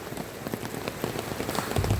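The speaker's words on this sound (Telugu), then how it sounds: "ఈ వర్షం ఎప్పుడు తగ్గుతుందో తెలియదు." Steady rain drums close by on surfaces in a village during Cyclone Montha as it floods farm fields, a dense, continuous patter of drops that grows slightly heavier toward the end, with no voices.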